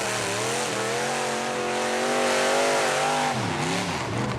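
An extreme off-road vehicle engine roars and revs hard nearby, its pitch climbing and wavering, then dipping and rising again near the end.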